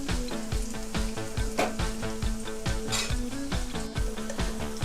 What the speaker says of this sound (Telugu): ఇట్లా దూరగా వేగాలి ఉల్లిగడ్డ.